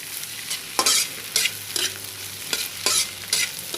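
Spicy fried rice with egg is stirred in a pan over a constant sizzle, with a spatula scraping and tossing the rice in several distinct strokes about half a second apart.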